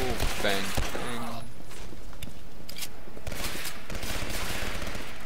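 Gunfire in the video game Legendary, with a quick burst of shots early on, then scattered sharp reports over dense, busy game noise and some talking.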